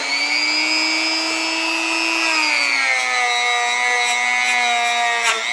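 A Scotch-Brite abrasive wheel scrubs crud off a metal pressure bar, making a steady, loud whine close by that dips lower in pitch as it bears down on the metal, with no talk.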